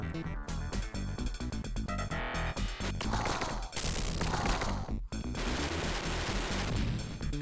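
Rapid gunfire and crashing explosions in the Sega Genesis game Robocop vs Terminator, with dense, loud bursts over electronic game music throughout.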